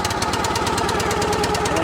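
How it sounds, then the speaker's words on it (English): Petrol engine on an Ifor Williams log splitter running and revving, a loud, close, rapid chugging beat with a steady mechanical clatter, no voices over it. "And then just rev them up."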